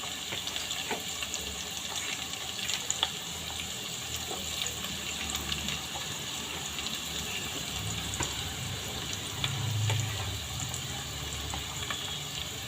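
Ginger and green chillies frying in oil for an anchovy pickle, a steady, even sizzle with faint crackles throughout and no talking.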